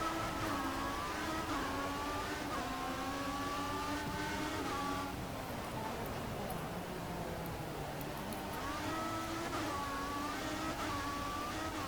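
Formula 1 2014 race cars in the PC game surging away together at the race start, a loud dense roar of revving engines with rising pitch sweeps, briefly dipping midway before climbing again as the pack accelerates.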